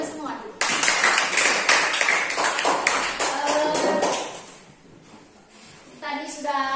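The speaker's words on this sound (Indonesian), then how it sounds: "Tepuk tangan untuk kita semua" A primary school class claps in a burst of quick, close hand claps. The clapping fades and a teacher's voice follows.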